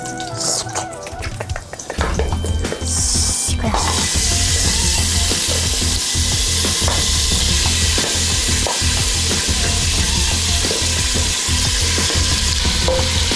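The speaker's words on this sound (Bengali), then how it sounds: "এই সময় ফ্লেমটা একদম জোরে রাখবে, রেখে ভালো করে মাটনটাকে নাড়াচাড়া করে নেবে" Mutton for yakhni pulao hitting hot spiced oil over a high flame bursts into a loud, dense, continuous sizzle after about two seconds of quieter clatter, then roars steadily with stirring scrapes, close up and without talk.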